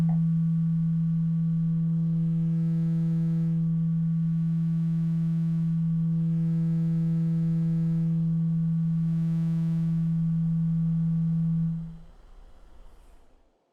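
A steady synthesizer sine wave runs through hard sync, a pure sustained tone with faint harmonic overtones that holds evenly for about twelve seconds before cutting off abruptly, leaving brief low residual noise.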